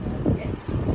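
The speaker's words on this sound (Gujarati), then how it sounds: "બહારથી પવન કેવો આવે જોયું" Wind gusts buffet the microphone in low, rumbling bursts, filling the brief moment outdoors.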